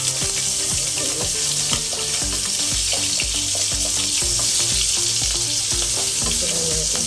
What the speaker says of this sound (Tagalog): pwede na natin ilagay ang ating mga aromatics. So, unahan natin ang ginger.